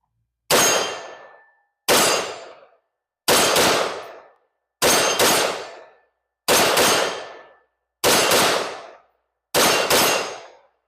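Seven sharp, evenly spaced shots ring out from a Smith & Wesson M&P 15 Tactical police trade-in rifle, each a loud crack with a short ringing decay and clear silence between them.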